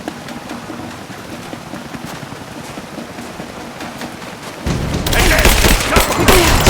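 Gunfire in the Rise of the Tomb Raider video game. A low rumbling, rain-like bed gives way near the end to a loud, dense burst of rapid shots.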